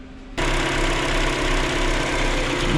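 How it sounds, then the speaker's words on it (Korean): A roughly ten-year-old Mini Cooper's engine idles steadily up close, a constant low rumble with a faint rhythmic ticking, starting abruptly after a brief quieter moment. "엔진 소리는 나쁘지 않습니다"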